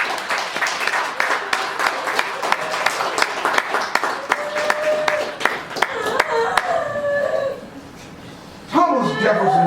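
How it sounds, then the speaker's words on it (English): A crowd at a reparations event in Chicago breaks into rhythmic clapping, sharp and fairly close, with some chuckles. The clapping thins out partway through and a voice begins speaking near the end. "Why don't you give him a round of applause for that?"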